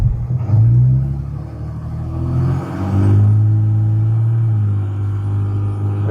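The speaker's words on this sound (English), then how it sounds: "Now it's shifting under acceleration at about 15 miles per hour." A 2007 Dodge Ram truck engine rumbles loudly up close as it accelerates, its low drone rising, dipping at a gear shift around the midpoint, then climbing again.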